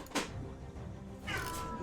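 Two house cats meow and yowl at each other in a brief squabble, one harsh cry near the start and a drawn-out wail near the end, fairly close by against steady background hum.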